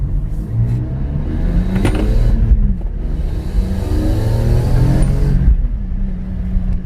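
A car engine revs and accelerates up close while driving, rising and falling engine tones over a steady road rumble, with no talk.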